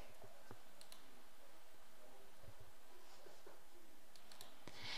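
Mouse clicks on column headings of a branch statistics screen in Expert Manager software, a few faint, sparse clicks over quiet room noise with no talk.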